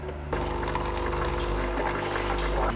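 Water pours steadily into a coffee maker, with a continuous rushing flow and a low mechanical hum running underneath, close and fairly loud.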